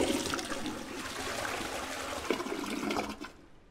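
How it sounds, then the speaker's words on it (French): A toilet flushing in the video game 12 Minutes, a steady rushing, gurgling wash of water that holds for about three seconds and then tails off into quiet. "J'ai tiré la chasse, c'est pas mal."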